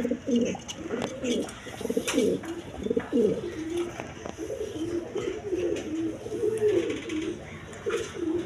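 Lahori pigeons coo, a pair of them, in repeated soft, low, rolling calls up close, with faint background noise throughout.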